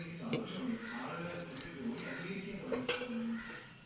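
A pot of fish curry on a gas stove is covered with its lid, giving a few light metallic clinks close by while a person talks over them.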